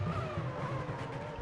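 A Formula One car from a 2004 racing video game, driven by Barrichello, holds a steady high engine whine through its flying lap with a continuous, fairly loud drone and no voices.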